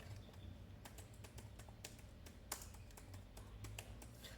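Rapid keystrokes on a laptop keyboard as a fastboot command is typed, a steady run of light clicks with a few sharper key hits, close and fairly quiet over faint background hum.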